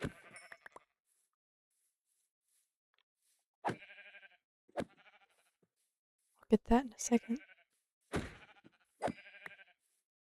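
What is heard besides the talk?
sheep bleating in Minecraft video game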